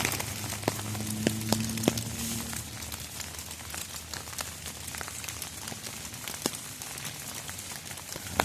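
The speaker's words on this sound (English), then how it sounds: "rain hitting the umbrella." Steady rain patters on an umbrella held outdoors in the woods, a dense continuous drumming with scattered sharper drops, fairly close and even throughout, with a brief low hum near the start.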